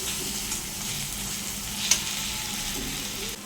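Turmeric and salt being stirred into tomato masala frying in a pan, giving a steady soft sizzle with faint scraping of the stirring and one brief clink near the middle, heard alone without talk.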